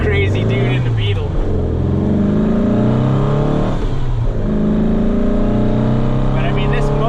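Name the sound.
1961 VW Beetle engine accelerating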